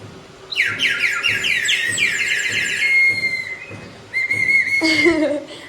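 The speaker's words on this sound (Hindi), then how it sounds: "उसके अंदर से ना सीटियाँ बजती हैं।" A toy whistle shrills in a run of warbling, sliding chirps, pauses briefly, then sounds again with a short burst; a voice murmurs faintly underneath.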